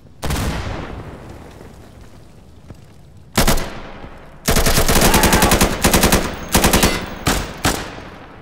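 Machine gun fire rings out in the Insurgency shooter video game, loud and close, with a single shot followed by several sustained rapid bursts of automatic fire.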